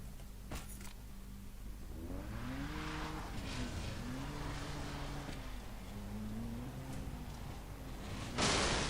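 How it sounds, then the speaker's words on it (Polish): Car driven in the Far Cry 3 video game: a steady engine drone with rising and falling pitch as it speeds along, fairly quiet and continuous, ending in a brief burst of noise. "Przejedziemy się kawałek może jednak autem."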